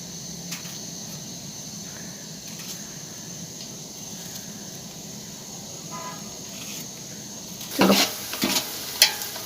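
Onions sizzle gently in a pan as they turn light brown, a soft continuous frying hiss that stays fairly quiet, followed near the end by a few sharper clinks of a utensil against the pan.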